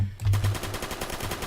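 Scar PDW submachine gun firing in the video game Phantom Forces, a rapid, evenly spaced burst of loud, close shots lasting about a second and a half.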